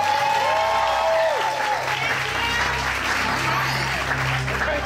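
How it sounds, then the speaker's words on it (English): An audience at a graduation ceremony breaks into sustained applause, a dense crowd of clapping hands that carries on for several seconds while a voice speaks briefly at the start. "Come on, y'all can clap better than that."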